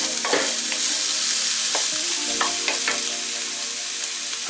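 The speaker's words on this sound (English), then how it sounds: "I like to sweat down the onions a little bit and then add the garlic." Chopped onions sizzle steadily in a hot pan for a chicken caldereta, with a constant frying hiss broken by a few scraping stirs of a spoon against the pan; no voices.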